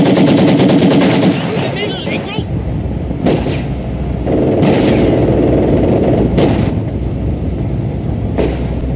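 Machine gun fire in Company of Heroes 2, a World War II Battle of Stalingrad strategy game, comes as loud sustained bursts mixed with distant artillery booms and battlefield din, with voice lines heard throughout.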